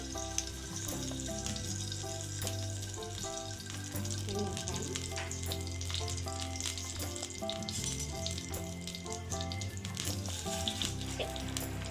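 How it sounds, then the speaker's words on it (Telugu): Chana dal, urad dal, mustard seeds and cumin sizzle steadily in hot oil for masala paniyaram, a continuous close frying hiss running under prominent background music. "పచ్చెనగపప్పు, మినప్పప్పు, ఆవాలు, జీలకర్ర వేస్తున్నానండి."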